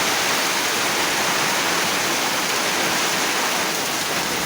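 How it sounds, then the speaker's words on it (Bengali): A downpour in Barishal hisses loud and constant throughout, a thick wash of heavy rain nearby with no talk over it. "বৃষ্টি হচ্ছে বরিশালে আজকে।"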